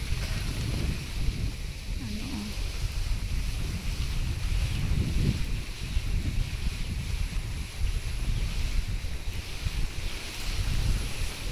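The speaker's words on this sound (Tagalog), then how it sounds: "malakas na ang hangin" Strong wind ahead of an approaching rainstorm roars and buffets the microphone continuously, a dense low rumble with gusting swells throughout.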